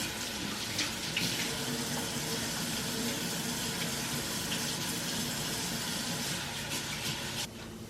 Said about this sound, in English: I'm gonna wash my hands, of course.